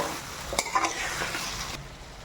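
Pre-boiled chicken sizzles and fries in oil while a utensil stirs and scrapes the pan, with a couple of sharp clinks against the metal over a steady crackling hiss.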